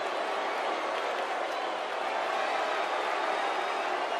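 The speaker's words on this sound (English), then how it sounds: "it sounds to me like the crowd is more than ready for this one" A wrestling arena crowd in WWE 2K18 roars steadily, a dense wash of cheering and applause holding at constant loudness from start to finish, with no clear voices above it.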